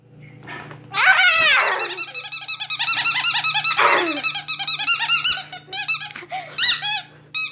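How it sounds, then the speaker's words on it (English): A dog plays tug of war with a squeaky toy, setting off a rapid, loud series of shrill squeaks along with occasional low growls, close up and almost continuous. "It's a squeaker tug of war."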